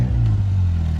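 A written-off Ford Fiesta ST engine idles and revs in a loud, steady low drone for about a second, with a faint clatter over it; the car's battery is weak.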